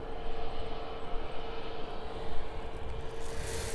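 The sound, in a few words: aircraft moving along runway 27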